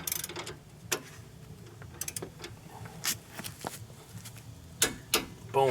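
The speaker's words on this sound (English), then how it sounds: "we're going to snug this nut down" A Craftsman torque wrench tightens a sway bar link nut to 65 foot-pounds on a Nissan Rogue, giving a series of close, sharp ratchet clicks in uneven bursts with short pauses between.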